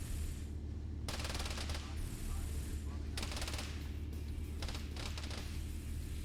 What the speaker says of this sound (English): Well, the turrets are trying to hit him.